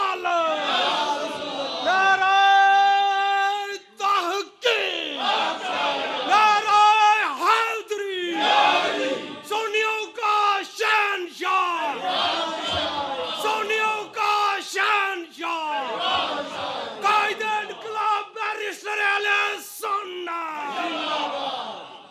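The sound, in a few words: crowd shouting slogan response to Nara-e-Takbir at conference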